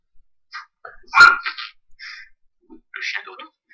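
Short, sharp dog barks from a computer sound off in quick bursts in a quiet room, with a voice in the gaps.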